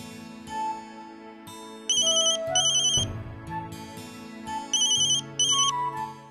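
An electronic ringtone plays a repeating melodic pattern in bursts with short gaps between, clear and close.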